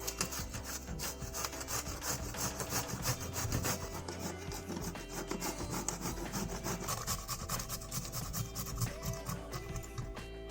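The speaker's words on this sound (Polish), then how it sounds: "I cukinię zetrę na tarce o grubych oczkach." Continuous rough scraping and rasping of unpeeled zucchini rubbed back and forth over a coarse grater, close up with no talking.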